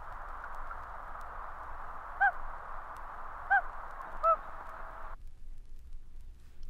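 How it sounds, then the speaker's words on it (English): Common loon hoot calls played from a vinyl record: three short, soft hoots spaced a second or so apart over steady surface hiss that cuts off near the end. "And finally, the hoot."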